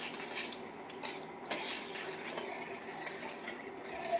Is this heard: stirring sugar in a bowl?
yes